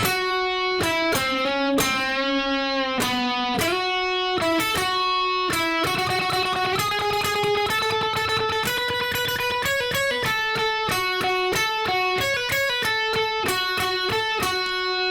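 A guitar plays a longer passage of a song, close and unaccompanied: bright ringing picked notes, first slower held tones, then a quicker steady run of repeated plucks, with no voices.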